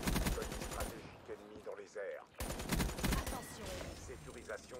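Rapid gunfire from a Call of Duty Black Ops 3 multiplayer match crackles in dense bursts, pausing briefly mid-clip before resuming, with a voice talking over parts of it.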